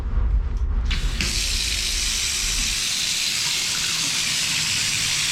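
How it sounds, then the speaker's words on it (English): A bathroom shower turned on full, with a heavy stream of water hitting the floor over a drain, starting with a brief clunk and then settling into a steady, loud, hissing gush. "I got the water coming down heavy now"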